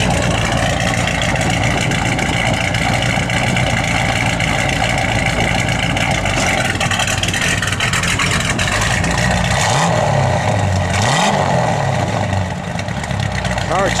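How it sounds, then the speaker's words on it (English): A 1974 Plymouth Cuda engine running loud and close with a steady muscle-car rumble, then two distinct throttle revs near the end that swell and fall back to idle. "Car just sounds awesome"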